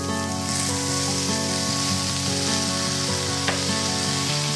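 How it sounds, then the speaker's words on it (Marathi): Green vegetables, French beans, peas, capsicum and spring onion, sizzle steadily as they sauté in a hot pan, a continuous loud frying hiss with light stirring scrapes and no talking. "आता ह्या भाज्या आपल्याला छान पॅनमध्ये सॉटे करून घ्यायचे आहेत"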